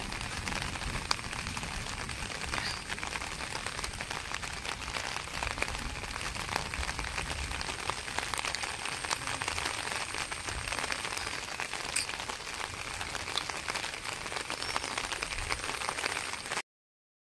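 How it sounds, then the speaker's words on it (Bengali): Steady rain falling outdoors, a continuous soft hiss of drops pattering on surfaces, fairly even and moderately distant, with no voices. "বৃষ্টি এতটাই পড়ছে"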